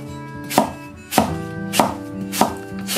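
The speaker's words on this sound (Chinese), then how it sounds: "用菜刀把苹果给它一分为二，把苹果我们给它切成片" A kitchen knife cuts through an apple on a cutting board in five crisp, evenly spaced chops, each a sharp, close thunk with a short ringing decay and no talk.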